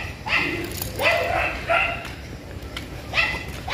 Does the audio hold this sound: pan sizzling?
no